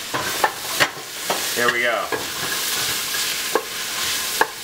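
Vegetables for rockfish soup sauté in a pot with a steady hiss and a few sharp spoon scrapes and knocks against the metal; someone speaks briefly partway through.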